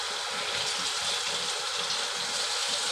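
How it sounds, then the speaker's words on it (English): Very hot water runs steadily from a kitchen faucet, a continuous close hiss and splash with no pauses and no voices. "Now, I've had the hot water running prior to this video, because you're going to want very, very hot water"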